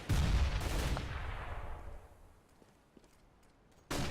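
Pistol fire in a Counter-Strike match, a loud burst of shots that fades into a quiet rumble, then another sharp shot at the end.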